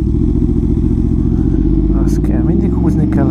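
A Yamaha MT-10 motorcycle engine runs loud and close with a steady, throbbing drone as the throttle is worked, while a rider talks over it.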